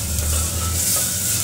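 Ginger garlic paste sautéing in a pan for palak paneer, a steady close sizzle with soft stirring scrapes running the whole time, no voices.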